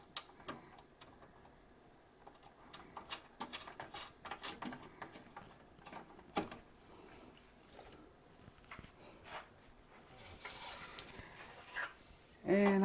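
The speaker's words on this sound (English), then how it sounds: "I use my little screwdriver to tighten this in because we don't want it bouncing around" A small screwdriver tightening a part on a Brother magnetic sash hoop, faint close ticking and clicking in irregular bursts, with a brief louder sound at the very end.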